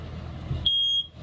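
A single sharp electronic beep from a smoke alarm in a travel trailer, high-pitched and steady for about a third of a second, following a low background rumble.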